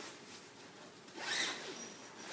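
A Snugpak Special Forces 2 sleeping bag zipper is pulled, a soft, close, brief rasping zip in the middle of a quiet, hissy room.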